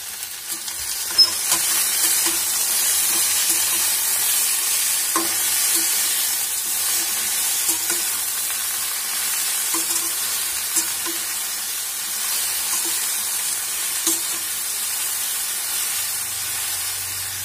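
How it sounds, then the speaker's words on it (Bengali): Jujube pickle stirred in a pan on the stove, a continuous soft sizzling hiss with a few faint scrapes of the spoon, steady and close with no voices. "কুলটাকে একটু নাড়াচাড়া করে নিয়েছি।"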